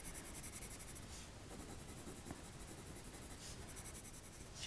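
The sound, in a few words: coloured pencil hatching on paper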